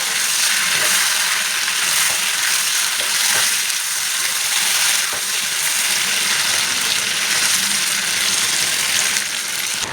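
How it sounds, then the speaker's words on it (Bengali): Chicken sizzles loudly in a kadai, a dense, steady frying hiss with occasional crackles and light stirring scrapes, continuing close and unbroken throughout. "চিকেনটা ভালো করে কষানো ভাজা হয়ে গেছে"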